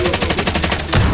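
Rapid automatic gunfire in Call of Duty: Modern Warfare, a close, loud burst of evenly spaced shots lasting about a second with no talk.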